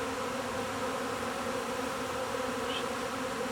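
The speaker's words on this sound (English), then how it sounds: "There's a lot of bees." A swarm of honeybees clustering on a backyard branch gives off a thick, unbroken buzzing drone, steady and close, with no talking.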